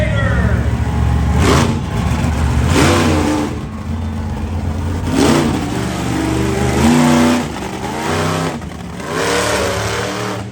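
Monster truck engines at a freestyle show, revving loudly in repeated surges and drops, with crowd and arena noise around and some speech over the roar.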